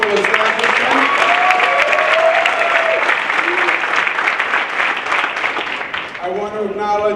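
Crowd applause at a casino grand opening ceremony, loud and sustained, with speech audible over the clapping, which thins out near the end.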